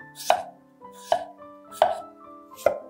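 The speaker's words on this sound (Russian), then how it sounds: "Беру 4 картошки среднего размера и нарезаю вот такими тонкими ломтиками." A knife slices medium potatoes into thin rounds on a cutting board, four crisp, evenly spaced chops that ring out clearly in a quiet kitchen.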